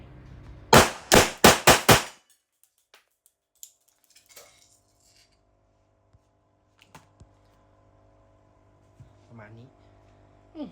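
Five quick loud blank rounds from a Beretta APX blank pistol crack in a tight rhythmic burst, followed by quiet handling clicks and someone speaking briefly.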